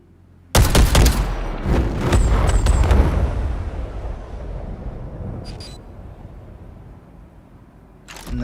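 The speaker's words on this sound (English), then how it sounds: "Oh, man, you gotta love MISC ships. They got such a great explosion." A MISC ship exploding in the Star Citizen video game: a sudden loud blast followed by crackling debris bursts and a long fading rumble, with a few sharp clicks near the end.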